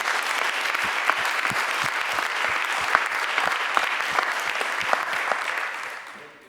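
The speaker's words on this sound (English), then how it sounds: "I think the speakers deserve a final but nevertheless broad round of applause" Audience applause for the speakers at the close of a session at an arbitration conference, Baltic Arbitration Days: dense, steady clapping from a large crowd that holds for several seconds and then fades out at the end.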